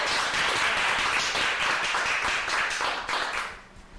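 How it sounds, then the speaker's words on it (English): An audience claps loudly and steadily for a 12-year-old's salad during a cooking demonstration, a dense burst of applause that fades out near the end. "Let's give it some a round of applause"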